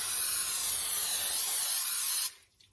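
A steady, close hiss of cooking spray onto a 9-by-13 casserole dish, lasting about two seconds, then cutting off abruptly.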